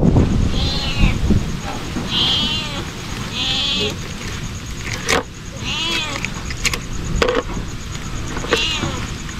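A cat meows repeatedly at close range, a series of clear, drawn-out cries spaced a second or two apart. There are a few sharp clicks and low background noise, and a person speaks at the start.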